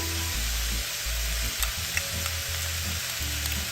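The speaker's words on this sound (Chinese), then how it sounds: "将所有食材一起翻炒均匀" Chili squid stir-fried in a hot wok after soy sauce, salt, pepper and oyster sauce go in, giving a steady loud sizzle with rhythmic scraping and tossing pulses throughout.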